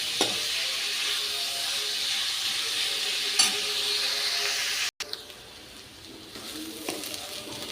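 Chopped onions fry and brown in a pan for paneer bhurji, giving a steady, close sizzling hiss that briefly cuts out midway, then resumes slightly quieter with a few faint stirring clicks.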